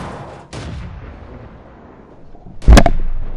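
A tank cannon fires in World of Tanks: a sharp, loud blast with a booming low end and a lingering rumble, preceded by a quieter distant report.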